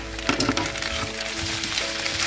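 A potato tortilla mixture stirred as it fries in a pan, with a steady close sizzle and scraping stir strokes that continue throughout and no talking.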